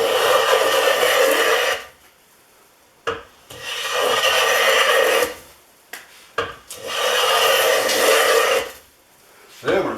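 A Stanley No. 5 hand plane, its iron set deep, takes thick shavings off 1-inch walnut in three long, close rasping strokes separated by short pauses and brief knocks.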